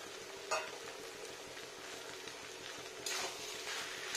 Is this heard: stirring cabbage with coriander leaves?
yes